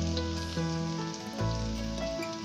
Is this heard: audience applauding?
no